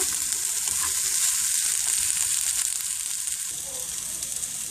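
Chopped onion and a bay leaf sautéing in margarine, a loud, bright, continuous sizzle close up with faint stirring.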